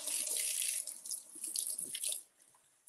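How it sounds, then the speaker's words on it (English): Tap water runs steadily into a kitchen sink as a cucumber is washed, a close, bright rush that breaks up briefly as the vegetable is moved under the stream, then cuts off near the end. "All right, let's wash our cucumber and slice it."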